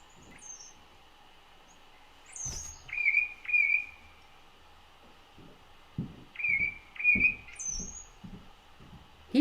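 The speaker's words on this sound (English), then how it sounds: "I recorded this bird for 25 minutes. He was running through his whole repertoire." Songbird in spring running through its repertoire, bursts of clear whistled and chirping phrases in a few separate runs, moderately close, with short quiet gaps and faint background calls.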